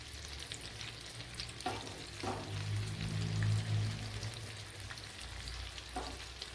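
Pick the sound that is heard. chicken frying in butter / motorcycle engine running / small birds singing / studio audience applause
chicken frying in butter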